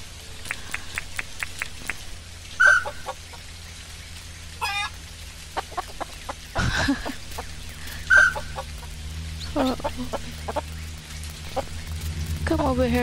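Chickens in the farming game Dinkum cluck in short, scattered calls over a low steady ambience, with a few louder clucks standing out across the stretch.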